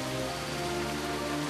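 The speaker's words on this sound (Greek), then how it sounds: "Η βροχή είναι η απόλυτη δοκιμή." Steady rain falls without a break, a dense, even patter of drops on a surface with a low hum beneath it. No one speaks.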